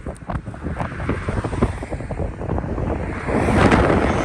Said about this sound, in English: Wow, is it windy?